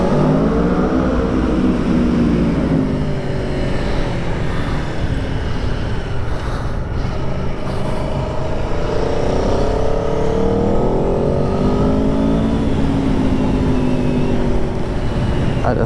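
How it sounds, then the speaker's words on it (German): Aprilia Tuono V4 motorcycle with its stock exhaust, engine revving up and down in loud continuous sweeps, close by, steady throughout with no talking. "Einmal Sound, Aprilia-Sound."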